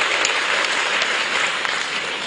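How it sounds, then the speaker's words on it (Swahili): A conference audience at a SADC labour ministers' meeting breaks into loud, continuous applause, a thick wash of clapping hands with no pauses. "Naomba tumpigie makofi mengi sana sana."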